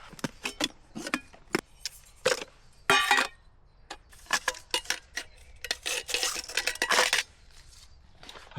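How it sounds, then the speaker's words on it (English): A Trangia camping stove and its pans handled in a tent vestibule during heavy rain, giving a close series of sharp metallic clinks, scrapes and rattles in irregular bursts, with no talking. "Get the trusty Trangia out."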